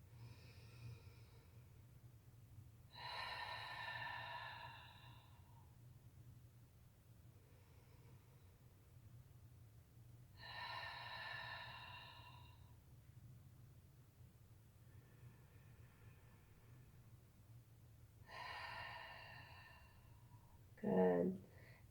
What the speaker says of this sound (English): Nice big side body breathing.